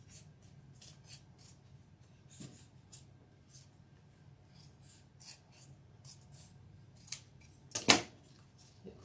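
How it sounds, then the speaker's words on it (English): Scissors snipping through material in a series of quiet, sharp cuts, with a louder snip near the end. "now I'm gonna take my scissors,"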